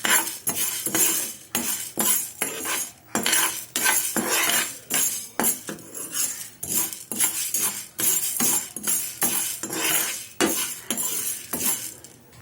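A utensil stirring urad dal as it roasts dry in a pan, with repeated scraping and metallic clinks against the pan in an irregular, busy rhythm, close and clear.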